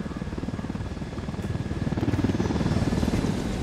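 A helicopter in the video game Ghost Recon Wildlands gives a steady, rhythmic rotor chop with a low engine drone, growing slightly louder partway through and holding close and continuous.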